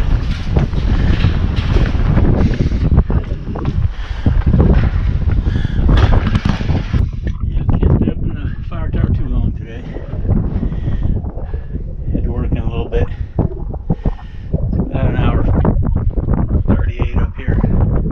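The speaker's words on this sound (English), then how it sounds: "breezy up here and cool." Wind roars steadily across the microphone on the summit of St. Regis Mountain during an autumn hike, loud and gusty throughout, easing somewhat after the first few seconds.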